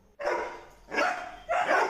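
Dogs bark on a farm that also keeps Kadai chicks, cattle and goats: three loud, close barks in quick succession with short gaps between them.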